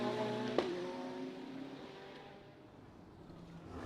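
GT race cars in Macau Grand Prix qualifying, a BMW being overtaken by a Ferrari, engines whining at high revs with a sharp burst early on, then fading into a quieter distant hum.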